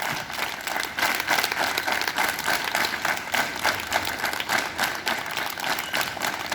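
Students clap together in unison at an outdoor school morning assembly, a steady, dense run of clapping lasting several seconds with little talk beneath it.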